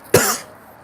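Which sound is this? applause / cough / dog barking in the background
cough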